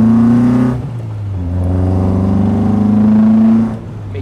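A Caterham Super Seven 1600 SV with a 135-horsepower four-cylinder engine revs and accelerates close by, its steady harmonic drone rising, dipping, then climbing again before easing off near the end, with no voices.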